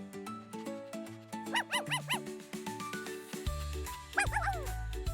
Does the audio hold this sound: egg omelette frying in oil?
no